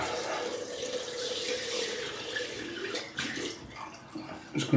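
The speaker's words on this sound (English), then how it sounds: "Just going to throw a bit of warm water on there" Warm water runs steadily from a tap into a sink during shaving-soap preparation, a continuous close hiss and splash with a brief louder gush at the end.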